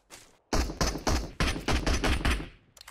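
Rapid automatic gunfire from the PUBG Mobile battle royale game on the Livik map, a dense series of loud, close bursts with short gaps, played alone without talk.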